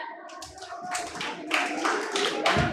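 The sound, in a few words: audience applause for performer Rahul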